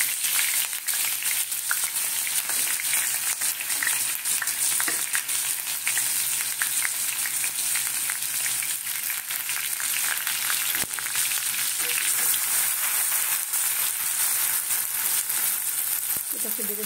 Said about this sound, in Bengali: দেখো তেলটা দিয়েছি, এইবারে এই বেরেস্তাটা করে নেব আমি।